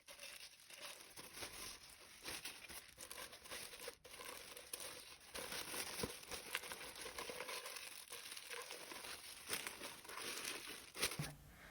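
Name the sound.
plastic film crinkling while covering a cone mould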